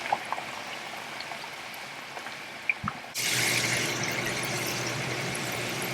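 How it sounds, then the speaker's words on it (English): Potatoes for poutine deep-frying in hot oil, a steady broad sizzle that jumps louder partway through and then holds constant, with a few faint pops before it. "So these have been frying for about 10 minutes and they look nice and golden and crispy and delicious."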